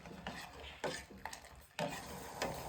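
Jaggery syrup with cardamom, cloves and cinnamon bubbling in a pan, heard as several loud scraping stirs over a bubbling hiss, close and unvoiced.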